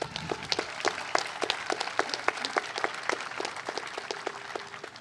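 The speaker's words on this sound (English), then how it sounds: "Let's give them a round of applause." An audience applauds city council members, many hands clapping at once in a dense, lively patter that stays fairly loud and sustained throughout.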